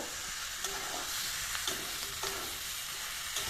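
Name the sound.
stirring jackfruit curry with spices in a pan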